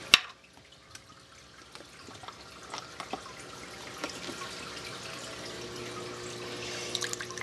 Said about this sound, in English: So now I'm going to add a half a cup of spring water.